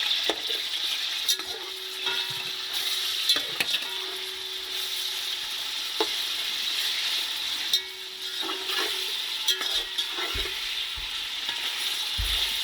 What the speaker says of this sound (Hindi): इसको 5 मिनट भूनना है इसके अंदर